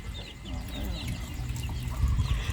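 Chickens cluck in a hot-weather farm setting, with soft intermittent clucks heard close beneath a steady low background hum and people talking.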